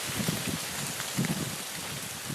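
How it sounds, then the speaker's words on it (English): Steady rain falling outdoors near a tunnel entrance, a dense, even hiss of drops pattering on surfaces, close and continuous with soft irregular splashes and no voices. "I wonder if you'll be able to hear the rain inside the tunnel."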